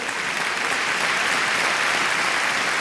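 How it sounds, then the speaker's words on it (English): Audience applauding dancers at an association event, a dense, steady burst of clapping from a large crowd, loud and sustained throughout. "so we applaud them all."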